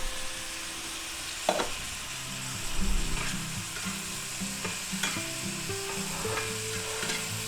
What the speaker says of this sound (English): let that cook a little bit, and let the green onions and the green peppers soften up a bit